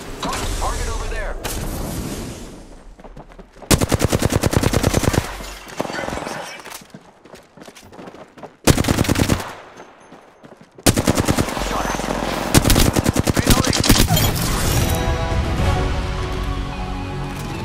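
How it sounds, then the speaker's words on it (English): Loud gunfire rings out in Apex Legends on the Olympus map, with long rapid bursts of automatic fire broken by short pauses and near-silent gaps, and with sharp single cracks in between. "The enemies are shooting at me."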